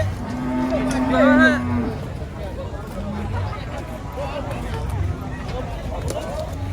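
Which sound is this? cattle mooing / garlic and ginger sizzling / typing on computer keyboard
cattle mooing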